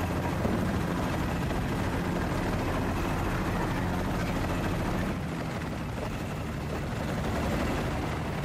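A helicopter in the video game Battlefield: Bad Company drones steadily in flight, a dense, continuous rotor and engine roar with no break in level.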